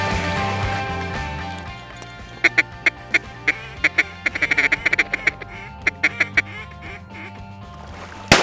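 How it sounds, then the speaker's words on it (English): Ducks quack in a rapid, loud series over steady background noise during a waterfowl hunt, the calls bunching into a busy run in the middle and thinning out toward the end. "We had a duck almost land on Kobe's barrel"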